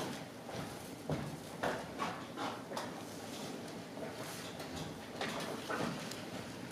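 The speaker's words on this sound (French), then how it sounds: "Mais c'est le cheval." Horse hooves clip-clop in an uneven series of sharp knocks over a noisy background, moderately close, with no speech.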